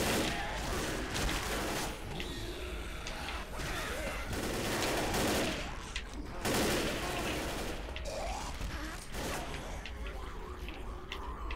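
Gunfire in the Left 4 Dead co-op campaign The Sacrifice, dense bursts of rapid shots running almost continuously at close range, mixed with game noise and voices talking over it.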